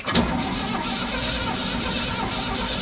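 A 1967 Chevy C10 pickup engine cranking over on the starter as the key is turned, a steady loud churning drone that carries on without catching, close by and with no talk over it.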